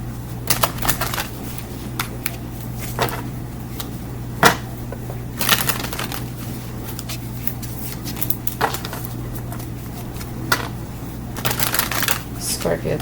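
A Herbcrafter's tarot card deck being shuffled close by, with repeated crisp riffling flutters and soft slaps in irregular bursts over a steady low hum.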